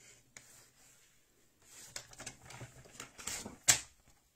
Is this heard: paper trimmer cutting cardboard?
yes